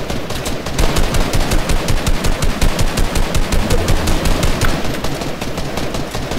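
Rapid automatic gunfire in Fortnite during a box fight, a dense, loud, continuous stream of evenly spaced shots lasting several seconds with no pauses.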